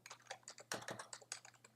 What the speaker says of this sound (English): Seems like a lot of typing, doesn't it?